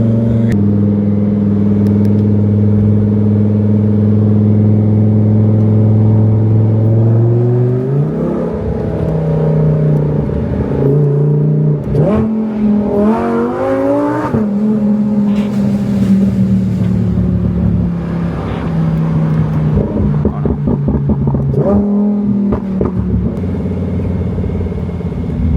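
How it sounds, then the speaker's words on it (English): A Lamborghini engine pulls steadily, then revs and shifts through several sharp rising and falling bursts while driving in regular traffic, a loud close engine note throughout. "First drive in a Lamborghini."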